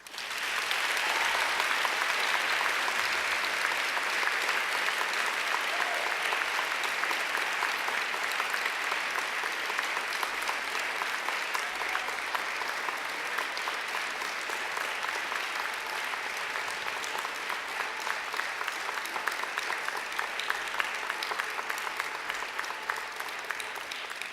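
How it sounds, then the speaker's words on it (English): Sustained applause from a large audience at a graduation ceremony, a dense steady wash of clapping that holds at full strength throughout without pause. "give them a mighty round of applause"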